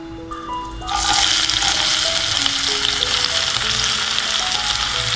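Fennel seeds hit hot oil while an egg gravy is cooking. A loud, dense spluttering sizzle bursts in about a second in and keeps crackling steadily to the end, with faint music behind it.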